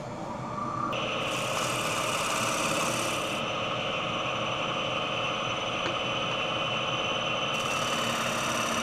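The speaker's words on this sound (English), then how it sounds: "The dry wood does not cut cleanly, even with a freshly sharpened gouge." A gouge cuts a dry cedar bowl on a spinning wood lathe, giving a steady hum with a rough, hissing cut that rises in bursts, close and continuous.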